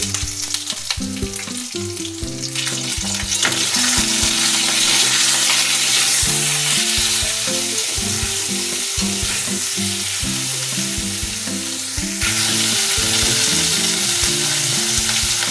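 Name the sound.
bitter gourd frying in a pan with salt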